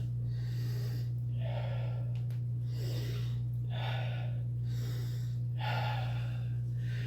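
Four slow cycles of deep breathing in a qi gong routine, each drawn-out hissing inhale followed by a softer exhale, steady and close under a constant low hum, with no talking.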